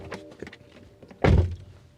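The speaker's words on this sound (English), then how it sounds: "You need to exert some force to close the doors." A Skoda Slavia car door closing firmly, one solid low thunk near the end after some faint handling noises, close and fairly loud.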